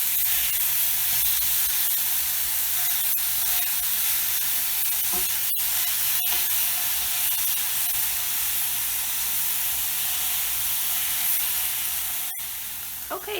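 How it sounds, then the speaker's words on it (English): Ground beef browning in a pan, giving a loud, continuous hissing sizzle with a few sharp utensil clicks scattered through it and no talk. "the meat's been browning and cooking"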